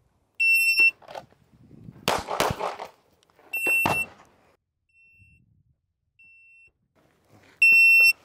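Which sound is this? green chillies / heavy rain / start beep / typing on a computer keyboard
start beep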